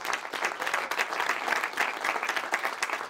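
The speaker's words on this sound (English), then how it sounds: "I'd love to give a round of applause to them" An audience at the Virtual Beings Summit in LA claps steadily in a sustained round of applause for Heather and Elizabeth, a dense, even patter of many hands filling the room.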